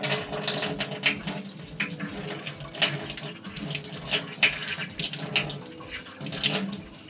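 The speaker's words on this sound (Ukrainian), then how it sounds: "Відкриємо гарячий і відкриємо гарячу воду, щоб виходило повітря." Hot water runs steadily from an open tap while a Round 80-litre boiler fills, the continuous rushing stream carrying faint sputters of air pushed out of the line, with no talk over it.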